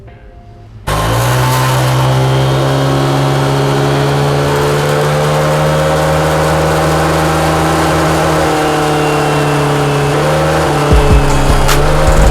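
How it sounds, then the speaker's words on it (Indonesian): Honda PCX/Vario scooter engine with an upgrade but no bore-up, revving hard during a dyno power test. It starts abruptly and holds a loud, sustained high-rpm roar with rising pitch for about eleven seconds, briefly dipping near the end, with no voices. "selanjutnya akan di power test ya"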